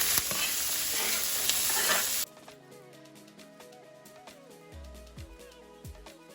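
Peppers and onions hit a hot stir-fry pan for a loud, dense sizzle that cuts off after about two seconds, leaving quieter kitchen clatter and faint pan crackle.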